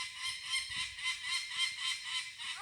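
Goose-like bird honking in a rapid, rhythmic series of nasal calls, repeated steadily and fairly close, with no talk over it.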